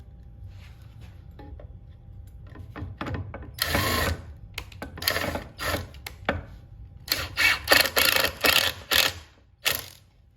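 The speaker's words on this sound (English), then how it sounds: "Square bit number 2, take the screw." A square-bit driver sends screws into pocket holes while a wooden step stool is assembled, giving short bursts of motor whir and ratcheting of varying length that come close and clear, with quiet gaps between them and no talking.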